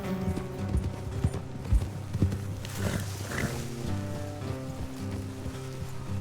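Horse hooves in Red Dead Redemption 2 clip-clop at an easy walking pace over a low ambient hum, a few sharper steps early, then softer footfalls continuing.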